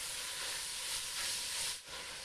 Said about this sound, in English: It's really sizzling now, and it's releasing, the onions and the meat are all releasing some of their juices in here.